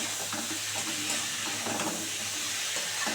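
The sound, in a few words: spice paste being fried in a pan for loach fish curry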